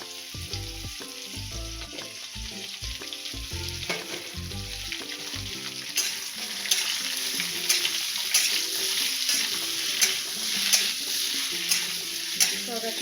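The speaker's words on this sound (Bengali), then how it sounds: "সব একসঙ্গে ভালো করে মিশিয়ে নেব" Potatoes, green chillies and tomato sizzle steadily in a pan while a utensil stirs and scrapes them. A music-like tonal pattern runs under the first half, and then the frying hiss and stirring clatter carry on alone.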